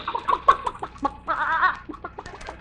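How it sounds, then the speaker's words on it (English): Chickens on a farm, being fed corn, cluck nearby in short, quick bursts, with a longer squawking call in the middle. "We gotta feed the chickens."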